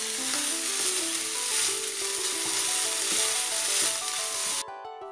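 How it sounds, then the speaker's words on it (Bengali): Minced meat fries without oil in a nonstick pan, making a loud, continuous sizzle with faint stirring and background music, which drops away abruptly near the end. "কিমাটা ভাজা হয়ে গেছে।"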